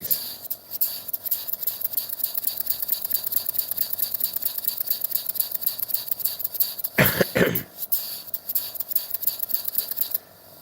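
A small model engine, a Myford Boys' type, runs steadily in a home workshop, a continuous buzzing drone lasting about ten seconds with one brief louder burst partway through, fairly close.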